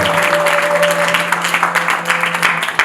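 An audience at a Paris ceremony for a touring king applauds in a sustained, dense wash of clapping, loud and close, with a faint steady hum underneath.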